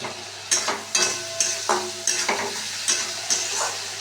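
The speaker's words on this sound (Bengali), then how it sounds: "মশলা ভালো কষানো হয়ে গেছে কটা কাঁচা লঙ্কা দিয়ে দিলাম" Green chillies go into a thick spice masala frying in oil, with sharp rhythmic stirring scrapes about every half second over a constant sizzle, close up and alone.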